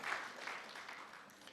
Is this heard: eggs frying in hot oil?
no